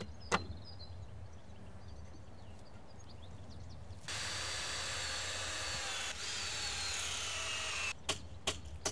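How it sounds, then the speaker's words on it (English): A power drill whirs steadily for several seconds at moderate distance, boring through a wooden door post into the lintel of a polytunnel door frame, preceded by quiet room noise and followed by a few sharp knocks. "drill through the post and into the lintel"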